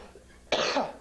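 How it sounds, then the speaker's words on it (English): A single sharp cough bursts out halfway through, loud and close, after a quiet lead-in. "Oh, a bit of a cough there."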